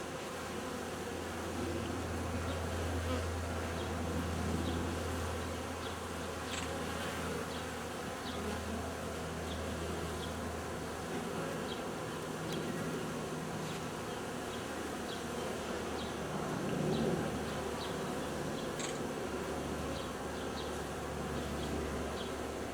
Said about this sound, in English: Big ball of bees.